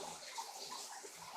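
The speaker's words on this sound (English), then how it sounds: "water coming off that one edge down here on the bottom" Water streams steadily from a DIY recirculating high banker used for gold prospecting, a soft continuous splashing flow off an edge and into a tray, heard close and alone.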